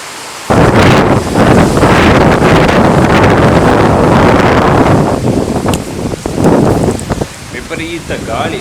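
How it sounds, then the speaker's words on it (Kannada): Strong wind gusts roar and buffet a microphone outdoors, a loud continuous rushing that swells and eases in waves for several seconds before dropping somewhat. "ವಿಪರೀತ ಗಾಳಿ, ಆಗ ಬೆಳಗಿಂದ ಸ್ಟಾರ್ಟ್ ಆಗಿದೆ ಗಾಳಿ ಬರಲಿಕ್ಕೆ."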